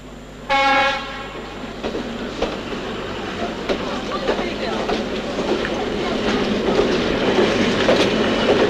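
A train sounds a loud, sustained horn blast, and its rolling wheel clatter and rumble follow, steadily building in volume.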